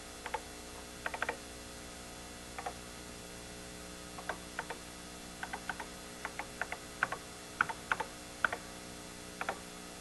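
Typing on a 1980s computer keyboard: scattered, quiet clicks of single keystrokes and short bursts of presses, spaced irregularly over a steady low electrical hum.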